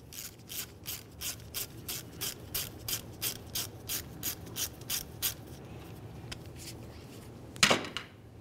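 A socket ratchet clicks in a steady back-and-forth rhythm, about a dozen even strokes, while backing out the brake banjo bolt that holds the flex hose to the front caliper of a 2003-2011 Mercury Grand Marquis. A louder metallic clunk follows near the end.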